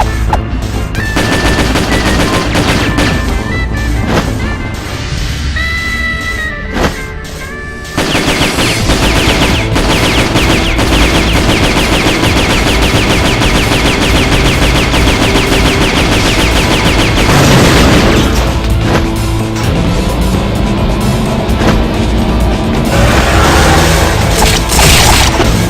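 Metal Slug 3D video game combat, dense continuous machine-gun bursts mixed with booming explosions and crashes, loud and sustained throughout with a short dip in the action partway through and no talk.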